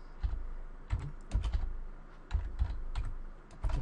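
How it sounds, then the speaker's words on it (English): Keystrokes on a computer keyboard as a short command is typed, several quick clustered taps at close range with brief pauses between bursts, no voices. "I'm going to type CLS to clear the screen"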